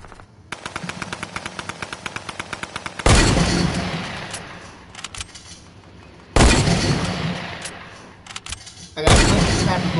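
Automatic gunfire in a shooter video game comes as a fast, evenly spaced burst of shots, then two heavy, loud blasts that each fade out slowly.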